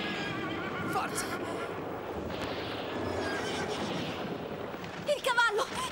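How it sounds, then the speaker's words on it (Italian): A horse whinnies amid a busy, noisy scene with voices talking over it, followed by a sharp, high neigh near the end. "Il cavallo! Il cavallo!"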